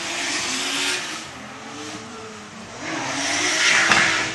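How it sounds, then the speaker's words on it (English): Drift cars, a Nissan R33 with 800 hp and an S14 with a 2JZ engine, racing past at a track, engines swelling and fading at a distance with rising revs and tyre noise near the end. "Coming down now, we have Pepsis Panayotis with his R33 rocking 800 horsepower"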